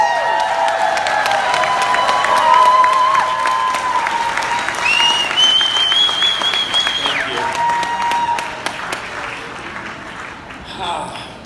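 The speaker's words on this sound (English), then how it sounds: "So please, a big, massive round of applause for Karl Eckland, AKA Mr. Shopping Annuity." Loud, sustained audience applause greets a speaker introduced at a talk event, with whoops rising above the clapping before the sound gradually thins out toward the end.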